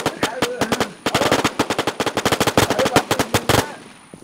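Loud, rapid automatic gunfire from the online shooter game WarZ rattles out in dense bursts, with a brief gap before the firing resumes and then stops.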